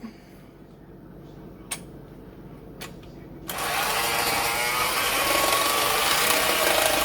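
Electric mixer beaters whir through cinnamon swirl cake batter. A quiet stretch with a couple of sharp clicks gives way to a loud, steady motor hum that runs to the end.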